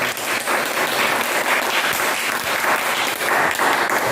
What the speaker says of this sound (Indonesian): tepuk tangan semua untuk kelompoknya